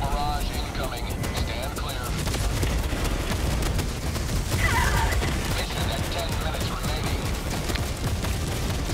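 Dense gunfire and orbital strike explosions in Helldivers 2, rapid bursts of automatic weapons mixed with heavy blasts in a chaotic firefight, with players talking throughout.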